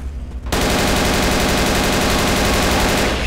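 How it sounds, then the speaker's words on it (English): In Left 4 Dead, a minigun opens up after a short lull and fires a dense, loud, continuous stream of rapid shots that holds steady for nearly three seconds. "You're shooting me with your minigun"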